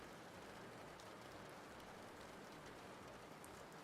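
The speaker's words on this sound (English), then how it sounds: "But I like the rain." Steady rain falls throughout, an even, dense wash of patter with faint drop ticks, continuous and unbroken with no voices.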